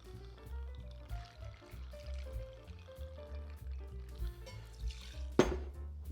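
Two ounces of Dead Man's Fingers pineapple rum pour into a cocktail glass or shaker, a soft, faint trickle beneath background music, ending with a brief clink.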